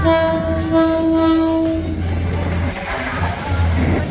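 A train rumbles past on the railway with a sustained horn blast, then heavy rolling wheel noise continues, loud and close.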